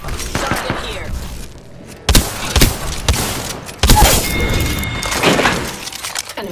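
Shotgun blasts in the video game Apex Legends come as several loud, sharp bursts spaced across the clip, mixed with game voice callouts and other combat effects.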